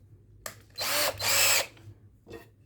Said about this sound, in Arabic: دي بنطة 6 مللي هركبها في الدريل واعمل عندي هنا الثقوب.